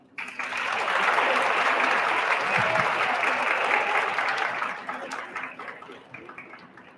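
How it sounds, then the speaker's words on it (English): A graduation audience at Science Leadership Academy applauds parents, friends and teachers, with a full burst of clapping that rises quickly, holds, then gradually thins out. "if you all would give a round of applause for the parents and friends and teachers and loved ones who've helped you reach this milestone in your life"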